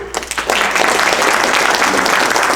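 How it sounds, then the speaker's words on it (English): Applause for veterans from the audience at a congressional candidate debate, a brief warm-up of claps swelling into a dense, loud, sustained round of clapping close by. "please a big applause to them"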